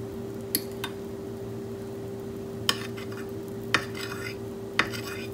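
Sugar syrup for Thai desserts such as med khanun and foi thong simmers in a pot with the heat just turned off. A steady low bubbling hum runs throughout, broken by a few sharp utensil clinks against the pot.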